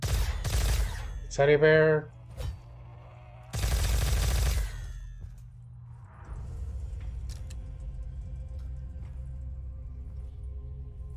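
Gunfire from a weapon in Black Ops 3 Zombies: two sharp, loud bursts of shots a few seconds apart, with a brief spoken question between them, then a quieter hum of game ambience.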